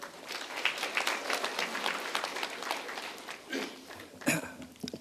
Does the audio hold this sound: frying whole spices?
no